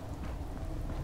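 Steady rain falls throughout in Fallout 4, a continuous even hiss of drops with no break and no voices.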